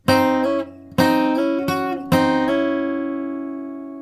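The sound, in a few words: guitar three slides in a row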